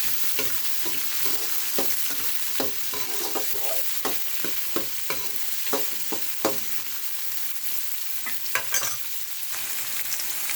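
Chopped onion, one large onion cut up, frying in a pan for a spinach and greens dish, with a steady sizzle broken by repeated sharp stirring scrapes and clicks. It stays close and fairly loud throughout, with no talking.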